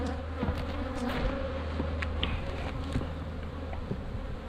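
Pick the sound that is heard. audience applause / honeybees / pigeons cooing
honeybees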